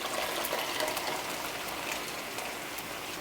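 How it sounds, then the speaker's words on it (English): Tomato goes into a pot of bolognese meat sauce with a steady, dense hiss that stays loud and continuous throughout, with no talking. "I'm going to go and add my tomato."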